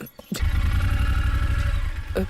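A motorcycle engine runs close and steady for about two seconds in a comedy scene from an Indian film. A deep, continuous idling rumble holds throughout, with a short burst of noise before it starts and near its end.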